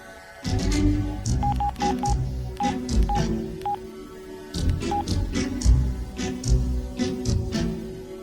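Telephone dialing tones ring out as a number is keyed in on a phone, a quick run of short beeps followed by a few spaced single tones, close and clear over a soft background hum, with no voices.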